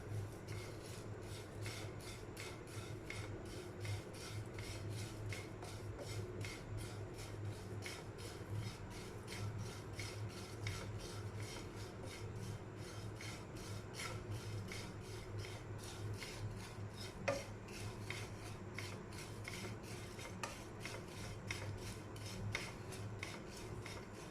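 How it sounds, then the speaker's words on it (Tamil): Flattened rice (poha) is roasted in a heated pan, a soft continuous rustling and scraping with quick rhythmic strokes of a utensil stirring it, faint and close. "இப்போது இந்த அவலை நல்லா ரோஸ்ட் பண்ணுங்கள்."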